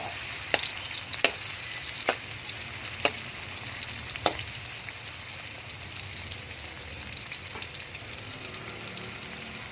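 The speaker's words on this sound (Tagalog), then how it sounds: "ginigisa na natin" Tomato, onion, garlic and ginger sautéing in a pan for sinigang na bangus fizz in a constant sizzle, with several sharp utensil clicks in the first half.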